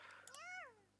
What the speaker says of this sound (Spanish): Miau, miau.